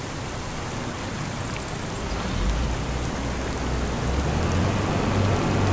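Steady, dense rainfall from the weather in Farming Simulator 25 hisses evenly throughout, with a low rumble swelling slightly partway through and no voices.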